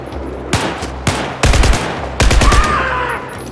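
Gunfire in a video game shooter, several sharp, close bursts of rapid automatic shots in quick succession with short gaps between them, loud and punchy.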